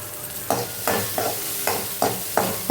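Tomato and onion sauté in a pan with a little salt for sambar, under a steady sizzle and a regular rhythm of spoon strokes scraping the pan, close and with no talk.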